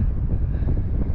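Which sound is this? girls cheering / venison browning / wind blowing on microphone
wind blowing on microphone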